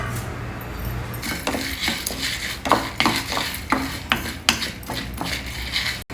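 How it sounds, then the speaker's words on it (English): Coriander seeds, chilies, black pepper, cinnamon, cardamom and cloves dry roasting in a pan over a low flame, with a spoon stirring and scraping in quick rattling strokes over a faint crackle, close up. "Now we can dry roast all these ingredients together in a pan."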